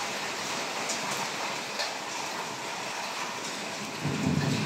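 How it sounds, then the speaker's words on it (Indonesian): Heavy tropical rain pours down steadily in a flash-flood downpour, a dense, loud hiss of rain on surfaces that swells slightly near the end. "Sekejap je hujan,"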